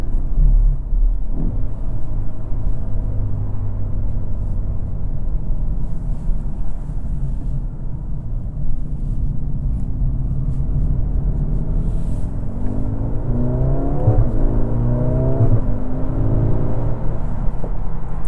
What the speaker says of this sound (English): nice little burble right there